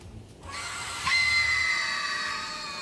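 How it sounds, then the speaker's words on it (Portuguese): A Banshee lets out a long, piercing shriek in King Arthur: Knight's Tale, a high sustained wail that swells abruptly and then rings on over a low rumbling backdrop. "aquele grito de Banshee, eu tenho certeza"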